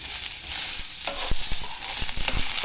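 Oil heats in a pan for bottle gourd pulao under a continuous hiss, with scattered scrapes and clicks from a spatula stirring close by.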